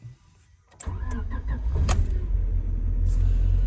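A 1993 Mazda 323 engine, unused for about three weeks, cranks briefly, then catches and settles into a steady, loud idle rumble close by.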